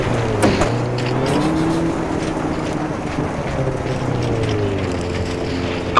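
Rally car engine in Richard Burns Rally, a steady droning hum that shifts pitch as the car changes down and slows, with a brief rising sweep near the start, continuous and fairly loud throughout.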